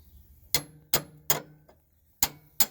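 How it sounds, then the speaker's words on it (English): A metal bar is struck against a crowfoot wrench to knock out a torque rod bolt on a semi truck, five sharp ringing hammer blows in an uneven rhythm, close and clear with no talk. "you can use just a bar, so you can hit it"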